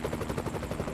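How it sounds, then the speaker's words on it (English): A helicopter in the American Truck Simulator video game, heard as a rapid, steady rotor thudding that is close and continuous through the whole moment. "There's a helicopter somewhere."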